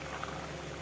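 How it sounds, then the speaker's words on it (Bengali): Tangra fish curry in a thin broth bubbles in a pot, a steady, soft boiling hiss with small popping bubbles, heard briefly and alone. "দেখুন ঝোলটা ফুটে উঠেছে"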